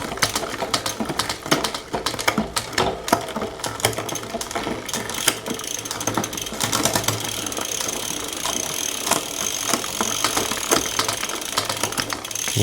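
A Shimano GRX clutch rear derailleur on a gravel bike ticks and whirs through gear changes as the cranks turn, a close, busy stream of rapid mechanical clicks and chain rattle with no talking.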